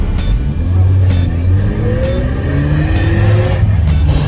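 A Mazda RX-7 FC with a rotary engine is driven and revved, giving a loud, close engine note that rises in pitch through repeated acceleration pulls. Gear changes break the climb, and no talk is heard.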